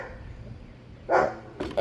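A dog barks twice indoors in an older house, two short sharp woofs about half a second apart, fairly near over quiet room tone.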